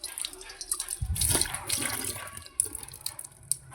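Water runs from a household tap in a home kitchen, a steady broadband rush that starts about a second in and keeps going at moderate level with small splashy peaks.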